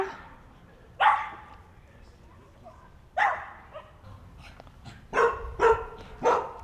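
Dogs bark in short bursts, a few sharp barks spaced apart then several in quick succession, moderately close with a quiet background.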